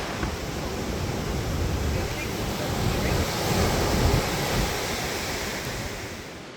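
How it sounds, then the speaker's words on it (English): Ocean surf at a beach in Balandra, Trinidad rumbles steadily and loudly, with continuous wash and roar mixed with gusty wind buffeting the microphone. "we've crossed back into the smaller beach where we entered"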